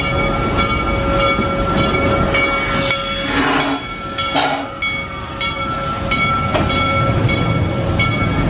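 A roller coaster train at Busch Gardens Tampa Bay rumbles past on its track, a loud, continuous rushing roar with faint tonal whines and clacks rising and fading.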